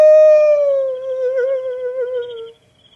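A boy imitates a wolf howl as a signal call: one loud, close, sustained howl that slowly falls in pitch over about two and a half seconds, then stops, leaving near silence.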